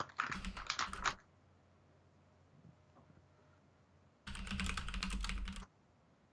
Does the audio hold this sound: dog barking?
no